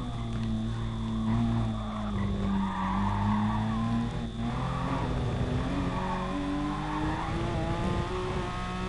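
A Porsche 911 RS slides through corners in the Gran Turismo Sport racing game, its tires squealing steadily over a droning engine that rises and falls in pitch, loud and continuous with no talking.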